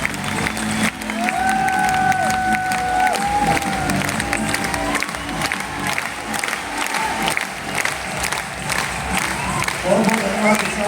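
A crowd at a training session in Delhi claps along with music, with a sustained wash of clapping, some cheering and whistle-like calls early on, and scattered voices mixed in.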